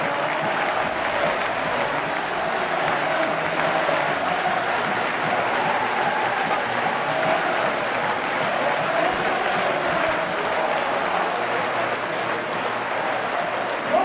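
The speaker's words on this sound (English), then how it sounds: "Robbie Evans sends the Wrexham crowd into hysteria" Wrexham football crowd at a home match against Gateshead erupting after a goal, sustained loud applause and cheering filling the stadium, steady throughout and heard from a distance across the ground.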